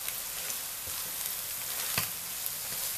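Chopped kale fries in butter for a corn flour farofa, giving a close, steady, dense sizzle throughout with a few soft stirring scrapes and no talking.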